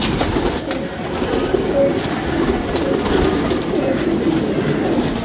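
Pigeons coo in low, soft, repeated calls over a steady outdoor background hum, with no one talking.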